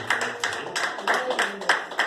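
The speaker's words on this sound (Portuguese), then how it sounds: "Vamos dar uma salva de palmas para ele." Church congregation clapping for a speaker after a pastor's message, a short run of brisk, moderately close claps in an uneven rhythm, with voices mixed in underneath.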